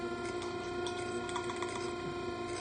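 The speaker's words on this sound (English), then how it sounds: "you will hear the smoke unit though, so there is that" A small O gauge model train smoke unit whirs steadily with a faint mechanical ticking and buzzing, a constant close hum with no voices.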